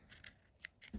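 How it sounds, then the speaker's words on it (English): Scissors snip through yarn in a quick, faint series of short crisp cuts, close and quiet, with no talk. "We're going to grab the scissors"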